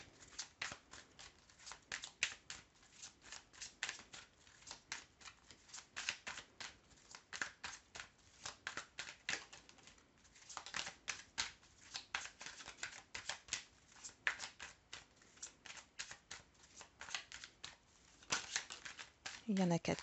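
Tarot cards shuffled in repeated quick riffling bursts of crisp card slaps, close and fairly loud, running almost continuously with brief pauses.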